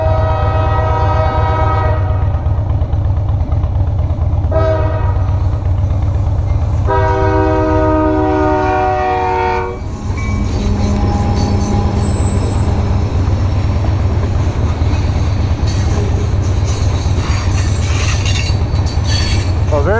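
A train passes while a Harley-Davidson Dyna motorcycle idles nearby, its horn sounding in several long blasts over a steady low rumble of the engine and rolling cars that continues throughout.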